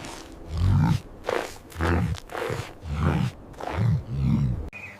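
A camel gives a series of deep, throaty grunts and roaring groans, several loud bursts close by with short pauses between them and no voices.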